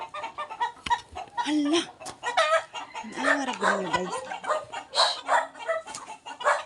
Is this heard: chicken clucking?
yes